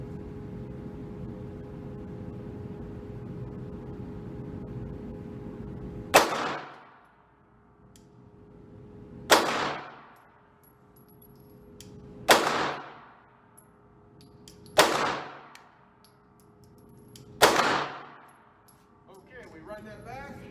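Five sharp gunshots from a Glock 17 pistol fitted with a Guttersnipe sight ring out at an outdoor range, evenly spaced about three seconds apart, each loud crack trailing off into a decaying echo over a low background rumble.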